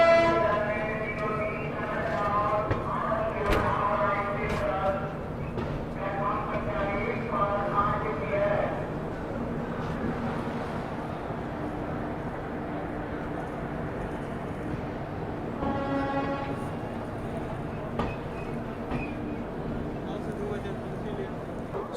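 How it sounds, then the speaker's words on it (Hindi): The West Bengal Sampark Kranti Express pulls into Pandit Deen Dayal Upadhyaya station with a steady, loud rumble of rolling wagons, marked by long horn blasts near the start and again later on. "चलिए दोस्तों, फाइनली अपनी ट्रेन जो है पहुँच रही है पंडित दीनदयाल उपाध्याय।"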